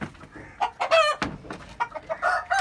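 Chickens on a chicken farm, loud and close, with several birds clucking and squawking in irregular bursts, one call rising into a crow-like cry, set against low farmyard background.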